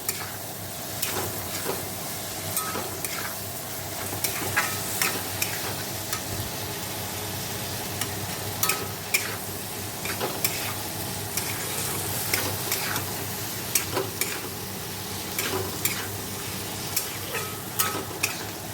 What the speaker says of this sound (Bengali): ভালো করে কষিয়ে জল ঢেলে দেবো